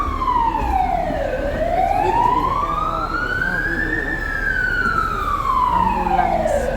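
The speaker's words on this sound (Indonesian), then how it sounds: "Ambulans." Ambulance siren passing along a Hong Kong street at night, a loud wailing tone sweeping down, up and down again, close and dominant over street and traffic noise.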